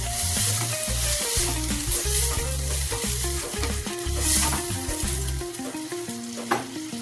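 Chunks of elephant foot yam stir-fried with spices and chilli powder in a pan, a steady loud sizzle with continuous scraping and stirring strokes, and a louder clatter near the end.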